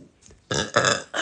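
A person lets out a loud, close burp in two quick voiced pushes, the second rising briefly after a short gap.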